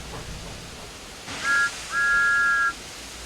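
Thomas the Tank Engine, a cartoon steam engine, gives a bright whistle: a short toot followed by a longer sustained blast, loud and clear over a faint airy hiss.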